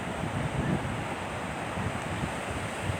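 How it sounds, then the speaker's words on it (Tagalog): Strong ocean surf after a typhoon in Marinduque rushes and churns continuously, mixed with wind buffeting the microphone, moderately loud with no talking. "malakas pa rin ho ang alon, oh"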